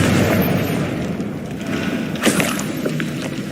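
A Confringo blasting spell explosion in Hogwarts Legacy, with a dull boom over a busy, rumbling combat backdrop. A brief sharp burst stands out midway, and no voice is heard.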